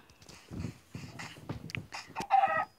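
A Minecraft chicken clucking in short choppy bursts, followed by a brighter squawk at the end, fairly faint with a synthetic, game-like quality.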